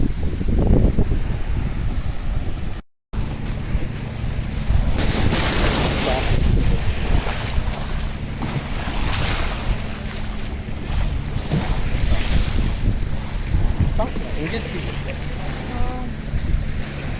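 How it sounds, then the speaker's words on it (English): Ocean waves break at Bandos island in the Maldives, a loud continuous roar of surf mixed with heavy wind buffeting the microphone, with a boat nearby. "the waves are not allowing to sit. They're just making noise and disturbing."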